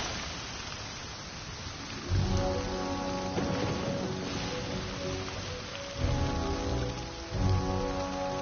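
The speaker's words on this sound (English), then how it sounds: "Let us find shelter from the rain." Steady rain pours in Genshin Impact, a dense even patter with a low rumbling swell that rises and falls a few times, fairly loud and with no voices.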